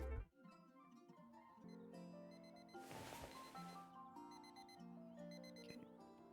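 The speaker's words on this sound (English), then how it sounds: "First thing we're going to do is turn off the alarm." An alarm clock rings inside the video game House Flipper 2, a layered electronic chime ringing on steadily for several seconds alongside soft tonal game music, with a brief noisy burst partway through.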